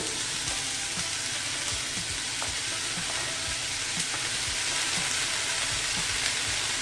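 Sliced onions and roughly chopped tomatoes frying in a pan for usal, with a steady close sizzle and occasional soft spatula taps and scrapes scattered through.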